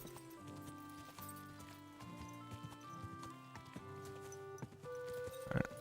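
Hooves clip-clop from a horse in the video game Kingdom Come: Deliverance 2, quiet and steady beneath sustained background music, with a brief louder accent near the end.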